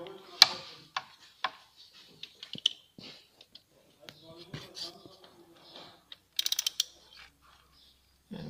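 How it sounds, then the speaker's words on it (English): A key turns counterclockwise to unscrew the crankshaft locking plug on a Renault Laguna 1.6 16V engine, making quiet ratcheting clicks and creaks in short, irregular bursts close by, with soft mechanical handling noises between them. "we are turning counterclockwise to open the plug"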